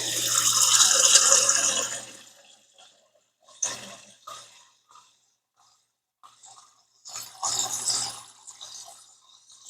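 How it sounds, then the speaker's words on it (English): Water pours steadily from a dispenser for about two seconds, then brief clicks, clatters and short splashes follow with quiet gaps between them. "This is the good water dispenser."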